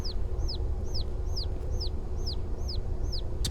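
Regular, quick chirping clucks from a bird in the Obenseuer video game repeat about eight times at an even pace, each a sharp falling note, set against a constant low background drone.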